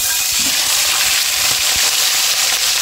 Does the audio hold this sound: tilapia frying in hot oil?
yes